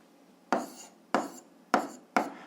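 Someone writing an algebra expression by hand, heard as four short scratchy strokes at an even pace, close and fairly quiet.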